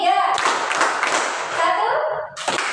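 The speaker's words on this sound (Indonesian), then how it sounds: "Tepuk 1, tepuk 2, tepuk 3" A classroom of children claps together in a counting game, sharp bursts of hand claps near and loud, with a teacher's voice leading the rhythm between them.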